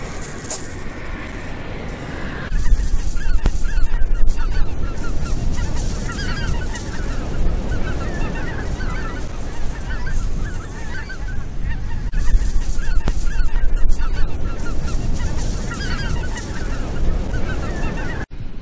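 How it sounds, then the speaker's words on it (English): Flock of geese honking overhead along the Suffolk coast near Aldeburgh, a dense chorus of repeated calls that carries steadily throughout, some birds drifting into the distance while others return. "we just saw the geese flying over, and then some went into the distance and others came back"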